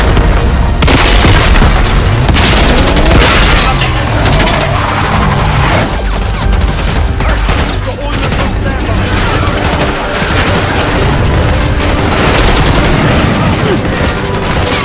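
Loud, dense gunfire and booming blasts in Call of Duty Black Ops 6 during an assault on a gate, sustained fusillades with repeated heavy impacts filling the whole stretch, with voices heard over the battle.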